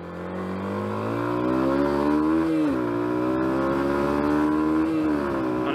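A Yamaha YBR 125 motorcycle engine drones steadily and close on a ride, its pitch climbing and dipping through gear changes with a brief lift off the throttle midway, with wind rush over the top.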